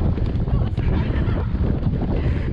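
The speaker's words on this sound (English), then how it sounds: "No, this is not a steady canter at all." A horse canters briskly on a countryside hack, its hoofbeats half buried under heavy wind buffeting the microphone, with a voice talking over it.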